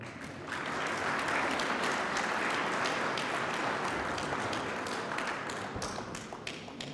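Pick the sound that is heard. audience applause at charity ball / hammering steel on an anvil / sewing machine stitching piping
audience applause at charity ball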